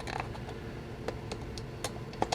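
The plastic case of a Fluke 17B+ multimeter being pried apart after its screws are removed, giving close, dry creaks and a few small clicks and snaps, ending in a sharper crack, with no talking.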